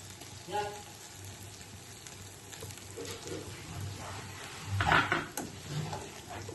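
Sesame and cashew paste with yogurt sizzling in a pan over lowered heat after ginger was fried, a steady soft crackle with occasional stirring and clatter, a voice faintly underneath.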